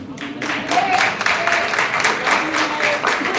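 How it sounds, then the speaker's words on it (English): Scattered audience clapping at a village emergency meeting, a modest uneven patter of hands that carries steadily for a few seconds with faint crowd murmur. "It really should have been a better clap"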